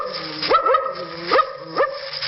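A voice imitates a suspicious dog for a 1940 radio studio audience: a few short, guarded woofs and yips spaced apart, close and moderately loud, with whimpery rises between them.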